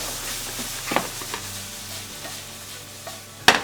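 Miso sauce cooking down in a frying pan gives a soft, steady sizzle with a few faint utensil scrapes and one sharp clack near the end, close by and without speech.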